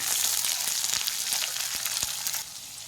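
Potatoes and beans fry in a pan for chow mein with a close, hissing sizzle and a few sharp scrapes and taps of stirring.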